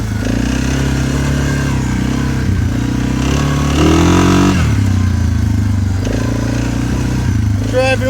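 A 2015 Suzuki KingQuad 500 ATV crossing a driveway into grass, its engine droning loud and close with shifting revs throughout, while a voice talks over it.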